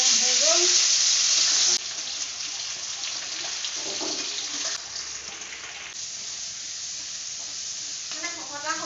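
Fish frying in hot oil in a home kitchen, a steady loud sizzle and crackle that drops slightly after a moment and continues evenly, with faint clatter and a brief voice in the background.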